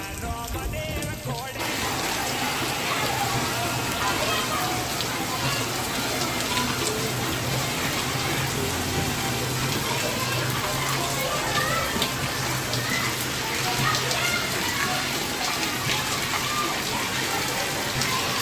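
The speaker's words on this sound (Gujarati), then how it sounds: "ધોધમાર વરસાદ." Heavy rain pours steadily in a village, a dense continuous hiss of water with wind, loud and unbroken throughout.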